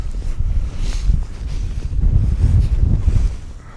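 Gusty wind blows over a frozen lake during ice fishing, a loud, rough rushing that swells and buffets the microphone with no voices.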